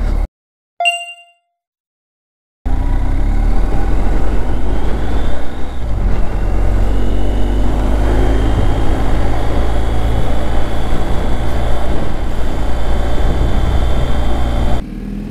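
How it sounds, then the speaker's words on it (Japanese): A BMW R1250GS motorcycle engine rumbles steadily and loudly with a rough, throbbing exhaust note, preceded by a couple of brief metallic dings. "あの排気音ももう少しちょっとこう荒々しい感じですね、ドコドコドコドコっていう感じの音がします。"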